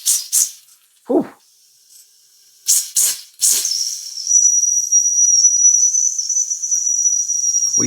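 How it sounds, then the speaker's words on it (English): A Mamod toy steam roller not run in decades hisses in short bursts, then its steam whistle sticks on in a thin, steady, high whistle with hiss that keeps going to the end. "Let's knock the steam whistle."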